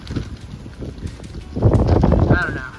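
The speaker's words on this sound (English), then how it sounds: "but it's really windy" Gusty wind buffets an unshielded microphone on the Appalachian Trail in low, rumbling bursts, growing stronger midway, with a voice faintly present underneath.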